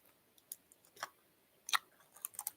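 Close, quiet chewing of cheese crackers with crisp crunches in irregular bursts, several bites and chews over a few seconds, no talking.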